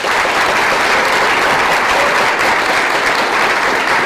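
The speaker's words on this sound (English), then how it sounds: "Round of applause." A crowd at a Woroni Q&A panel event gives a round of applause for the three panellists, a dense, steady burst of clapping that carries evenly through the whole stretch without a voice.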